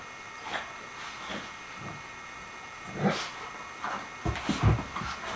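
Two dogs, Nora and Sophie, make soft whimpering and snuffling sounds as they try to get Lucy the dachshund to play, with a few scattered louder yips toward the end, heard close indoors.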